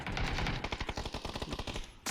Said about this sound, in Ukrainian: Вони що, по своїм стріляють чи що?